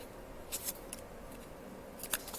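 Scissors snipping foamiran petals while a rose is made, a few faint, quick cuts heard in two small clusters over a quiet background hum.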